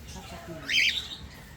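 A single shrill squawk from a cockatiel in a small backyard, brief and sharp, rising over quiet background murmur near the middle.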